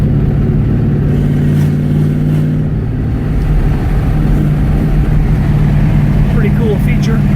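A 1971 Barracuda with a 340 six-pack V8 and a custom 4-speed drones loudly and continuously from close by on a test drive, its exhaust rumble steady and heavy throughout with no pauses.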